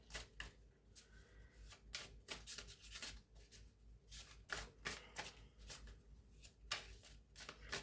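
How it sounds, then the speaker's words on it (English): Tarot cards are shuffled in quick riffling bursts, crisp repeated flutters of card stock alternating with brief pauses, close and fairly quiet with no voice. "let's pull a couple of cards for my number threes. A couple of tarot cards, please."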